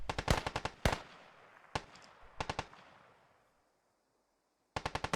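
Grenade and gunfire bursts in a Rainbow Six Siege tactical match: sharp clustered blasts up front, a single loud crack, then scattered reports that decay into a brief near-silent stretch before a final rapid volley.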